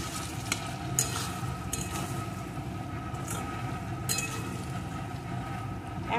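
Vegetables with a tablespoon of vinegar being stirred and fried in a pan for spicy chilli chicken, a steady low sizzle with scraping spatula strokes every second or so, close and continuous, no talking.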